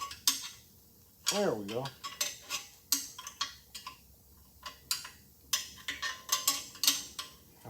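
Metallic clicks and clanks of a half-inch wrench turning a bolt on a 1952 Chevy truck, a sparse irregular series of close taps and ratchety ticks, with a voice speaking briefly among them.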